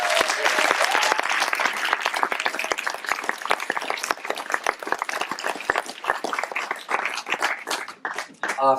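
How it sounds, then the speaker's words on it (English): Loud, continuous audience applause at a horror film festival awards event, dense clapping from a crowd filling the room and carrying on steadily, with a few scattered voices mixed in near the end. "So can we give her a round of applause?"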